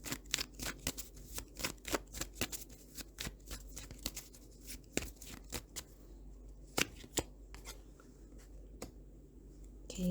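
Tarot cards shuffled in the hands during a pick-a-card reading, a rapid string of crisp riffling snaps and flicks, close and fairly quiet, with no talk over them.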